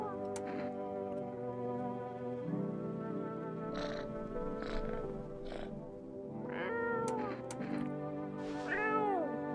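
A cat meows repeatedly in the video game No, I'm Not a Human, with several drawn-out, rising and falling cries spread across the span over a steady low tonal background hum.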